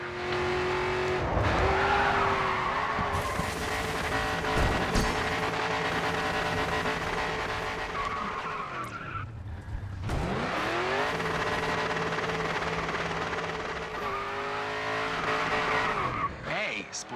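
Race car in the video game Grid 2 sliding sideways through corners, a loud continuous engine drone with rising and falling revs and tire squeal, briefly dipping mid-way before roaring back, under occasional talk.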